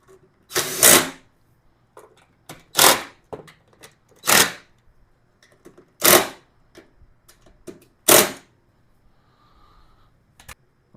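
Plastic seat fasteners on a Lifan KPV 150 scooter being tightened, heard as five or six sharp, loud clicking bursts spaced about two seconds apart, with quiet pauses between them.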